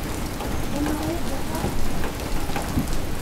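Steady, dense hiss of heavy rain pouring down without letup over flooded surroundings, a broad wash of noise with faint voices murmuring underneath.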